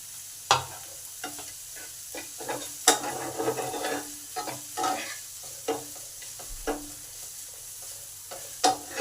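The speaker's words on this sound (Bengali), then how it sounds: "ক্যাপসিকামটা 1 মিনিট ভেজে নেব।" Capsicum frying in a pan, a soft continuous sizzle broken by irregular scrapes and knocks of a spatula stirring, close by and with no talk.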